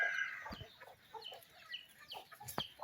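Chicks and chickens of a native Visayan breed clucking and peeping nearby, with a cluster of short calls early on and scattered chirps throughout.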